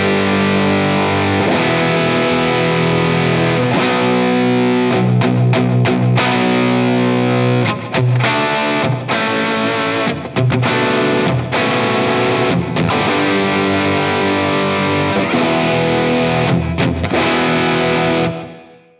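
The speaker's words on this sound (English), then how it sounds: "You can hear I've got a very tight delay on there and a nice plate reverb" A loud, distorted rhythm guitar playing chunky chords through a Wampler Catacombs delay/reverb pedal, thickened by a short, tight echo and a bright plate reverb, with brief rhythmic stops.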